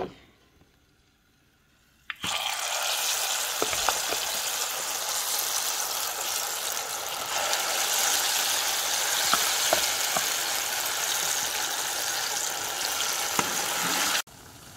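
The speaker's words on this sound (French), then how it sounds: "Et là, je vais les faire frire." Marinated pork chops, soaked in beer and mustard with onion, hit a hot pan and fry with a loud, steady hiss and crackle that starts abruptly after a quiet moment and continues throughout with occasional pops, no talking.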